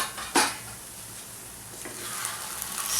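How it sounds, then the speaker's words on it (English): Sago (sabudana) is stirred in a pan over a slow flame, giving a soft continuous sizzling hiss broken by a couple of brief spoon scrapes against the pan, with no talking. "stir the sabudana well"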